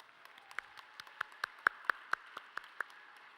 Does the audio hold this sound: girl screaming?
no